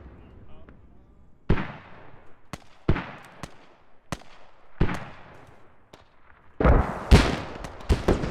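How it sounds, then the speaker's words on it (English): Mortar fire in the tactical shooter game Squad near a refinery: a series of heavy booming blasts at irregular intervals, some near and loud, others distant and duller, with sharp cracks between and voices in the background. "Yeah, I do hear mortars as well."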